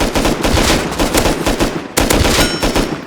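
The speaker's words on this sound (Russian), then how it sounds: "Стреляют." Automatic gunfire in the survival video game Rust, loud rapid bursts of shots in quick succession with a short pause before another volley.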